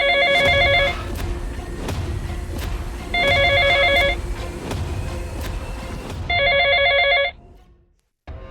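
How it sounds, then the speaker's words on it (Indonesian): Telephone bell rings in three loud bursts about two seconds apart over a low rumble of car-like background noise, then cuts off to near silence. "Ia memutuskan untuk menelepon pacarnya, Rio, di kota untuk menenangkan diri"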